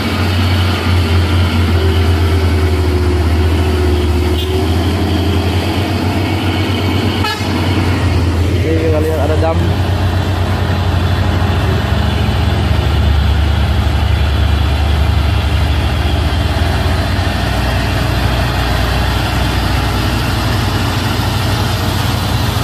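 A Hino truck engine rumbles loudly and steadily under heavy traffic noise, with a horn toot partway through.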